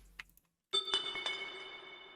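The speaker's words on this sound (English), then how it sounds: "like gun shells dropping sound effect, which I just pitched all the way down to sound like this" A pitched-down sound effect of gun shells dropping rings out after a few faint ticks, a deep metallic clink with a couple of further hits and a sustained decaying tone.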